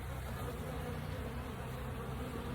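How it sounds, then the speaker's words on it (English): Honey bees buzz in a dense, steady swarm in front of a row of hives, a continuous close drone with no talk over it. "They're flying everywhere."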